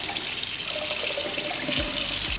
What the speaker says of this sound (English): you're going to run your knife under hot water